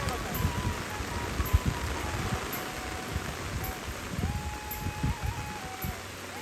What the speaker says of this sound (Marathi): पाऊस मजबूत आलाय त्यामुळे ना भिजायची काही इच्छा नाही